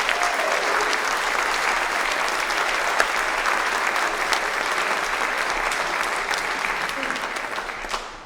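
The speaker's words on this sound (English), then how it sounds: "So if you guys would give them a round of applause." An audience applauds steadily at a school concert band performance, a dense sustained wash of clapping across the whole stretch that fades slightly at the very end.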